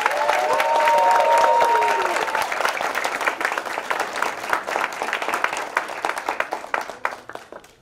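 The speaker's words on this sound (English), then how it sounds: "One more round of applause." A crowd claps steadily, the applause starting full and gradually thinning out into scattered claps.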